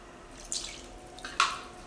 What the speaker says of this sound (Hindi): और अब हम इसमें डाल देंगे थोड़ा सा और पानी।